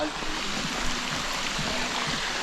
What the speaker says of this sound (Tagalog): Ganda pala ng ilog dito.